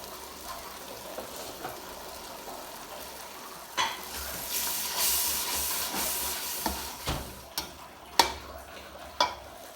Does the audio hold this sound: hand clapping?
no